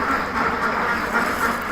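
Many ducks on a clean, dry duck farm quack together in a dense, continuous chorus, close by and fairly loud, with no talk.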